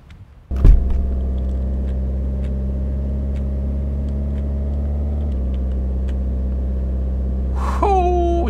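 A car engine in the zombie survival game The Last Farmer starts with a loud thump and then settles into a steady, close, droning idle that shifts once in pitch, ending with a brief higher whine.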